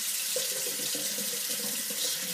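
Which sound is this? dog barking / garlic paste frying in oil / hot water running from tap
hot water running from tap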